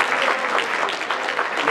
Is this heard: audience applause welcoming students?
yes